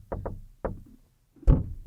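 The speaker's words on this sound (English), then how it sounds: "Maybe the mom, maybe this particular woman always knocked like this." Knocks on a door, two quick raps then a third after a pause, then a heavier bang near the end, close and fairly loud with no talk.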